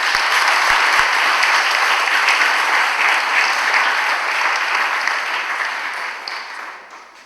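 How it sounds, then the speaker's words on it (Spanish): Loud, sustained applause from an audience in a conference hall for three panel speakers, dense clapping that holds steady for several seconds before tapering off near the end. "Un fuerte aplauso para los 3 ponentes aquí enfrente"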